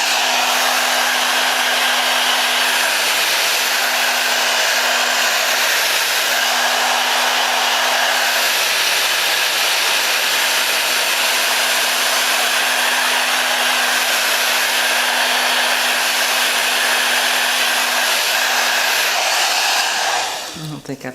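A hair dryer blows steadily on a synthetic Outre wig, a loud, continuous close-up whoosh with a constant motor hum that runs without a break for about twenty seconds and then cuts off abruptly at the end.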